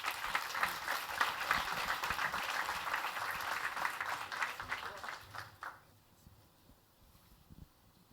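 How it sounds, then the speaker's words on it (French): An audience applauds a speaker named Leonardo after his talk, steady dense clapping for about six seconds before it tapers off to near quiet. "Je pense qu'on peut encore l'applaudir."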